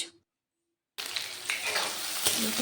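Onion and bay leaves fry in hot mustard oil in a kadai, a loud, dense sizzle that bursts in suddenly after a brief silence and keeps crackling steadily.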